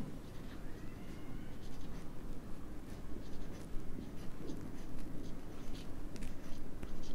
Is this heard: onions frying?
no